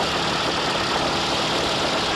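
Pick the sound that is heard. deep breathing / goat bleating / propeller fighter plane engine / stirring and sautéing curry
propeller fighter plane engine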